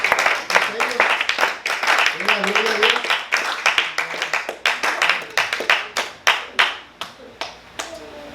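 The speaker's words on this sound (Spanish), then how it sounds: "Denme un aplauso a Dios" A church congregation applauds at a Christian sermon, loud rapid clapping from many hands that grows sparse and slows into scattered individual claps toward the end, with some talk mixed in.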